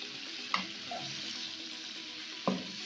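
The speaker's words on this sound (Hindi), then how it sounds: "बस इसको हम भून लेंगे थोड़ा सा" Raw mango pulp for a sweet and sour chutney being stirred and roasted in a pan, two distinct spatula scrapes over a soft, steady sizzle, close and fairly quiet.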